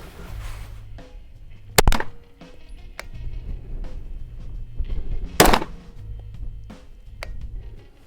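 Rifle shots fired with 5.56 ammunition ring out as two sharp, loud reports a few seconds apart, standing well above a low outdoor rumble with scattered faint knocks and no talking.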